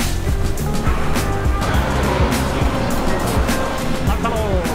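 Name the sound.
Japanese taxi ride in Tokyo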